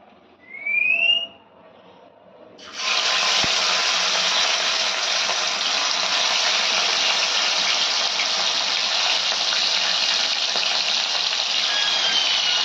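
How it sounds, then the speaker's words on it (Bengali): Fish fries in hot oil in a home Bengali kitchen, a loud, steady hiss erupting suddenly and holding without pause, preceded by a brief faint tone and soft background noise. "মাছটা ভেজে নিই।"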